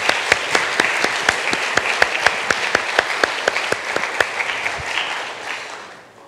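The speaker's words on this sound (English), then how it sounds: "Let's give one more big round of applause to all of our panelists for their great work and sharing." Audience applause for the panelists at a STEM festival, a steady round of many hands clapping with sharp individual claps standing out, holding strong before fading away at the end.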